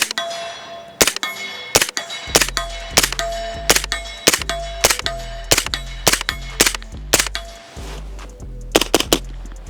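A rifle magazine is emptied at night in a rapid string of a dozen or more sharp, close shots, each ringing with a metallic clang.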